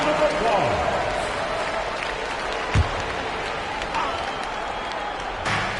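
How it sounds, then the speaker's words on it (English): Arena crowd at an NBA Finals game applauds steadily during a timeout, a broad distant roar with a few sharp thuds, while a commentator talks over it. "Give yourself a round of applause."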